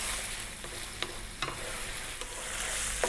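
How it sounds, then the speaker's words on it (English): Chicken fries over medium heat while a utensil stirs it, giving several sharp scraping clicks over a constant close sizzle; no one speaks. "5 minutes on this medium heat, stirring often."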